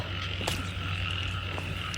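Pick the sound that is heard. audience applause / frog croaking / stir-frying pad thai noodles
frog croaking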